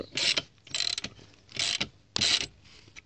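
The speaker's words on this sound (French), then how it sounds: "avec une douille de 19. Hop. On serre." A ratchet with a 19 mm socket tightens the bolt on a bike's rear sprocket in four separate bursts of rapid clicking, close and distinct, with short pauses between strokes.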